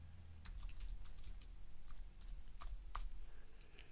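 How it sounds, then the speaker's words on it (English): Sparse, faint keystroke clicks on a computer keyboard during a Photoshop tutorial, a few quick taps scattered over a low hum. "At the end of the first line, I'm going to press the Return or the Enter key on the keyboard to add another line of type on the same type layer."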